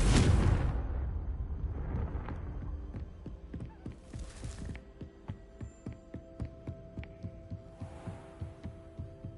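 In the Hogwarts Legacy video game, a Confringo blasting spell sets off one booming explosion at the outset that decays into a low rumble, then gives way to a steady, throbbing pulse and hum.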